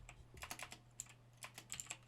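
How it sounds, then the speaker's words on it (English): Keys clatter on a computer keyboard placed right behind the microphone, a quick irregular run of light, close taps, soft overall, while someone codes in Java. "Forgive my typing, my microphone's in front of my keyboard"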